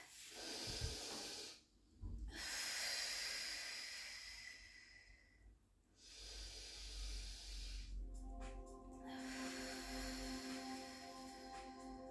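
Slow, deliberate breathing during a relaxing Pilates session, close and quiet, with several drawn-out inhales and exhales in long hissing waves, no talk.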